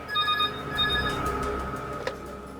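A telephone rings with a steady electronic bell tone at a shop counter in a detective drama, loud and close, with no talk over it.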